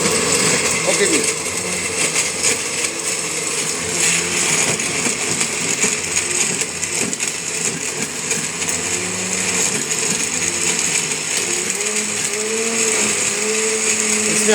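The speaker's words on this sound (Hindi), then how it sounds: "इसके बाद हम ब्लेंडर को ऑन करेंगे" A blender whirs continuously, blending fruit and vegetables with water into juice, a loud steady motor drone with a shifting churning pitch, and a voice speaks briefly over it.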